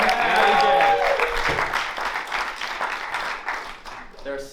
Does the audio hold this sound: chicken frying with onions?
no